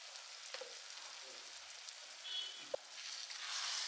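Turmeric, chili and coriander powders sauté in a pan with chicken for kuzhimanthi rice, making a faint, even sizzle with a single soft clink partway through.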